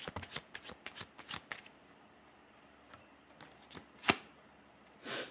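Tarot cards are shuffled by hand in a quick run of riffling flicks, then a pause, a sharp snap and one more close, soft burst near the end, with no talking.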